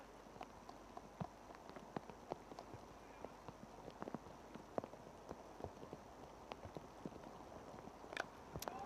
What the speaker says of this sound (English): It is starting to really rain quite heavily at the moment.